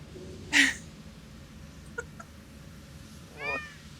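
A domestic cat gives two short meows, the first a loud, sharp cry near the start and the second a softer, rising call near the end, over a quiet room hum with no talking.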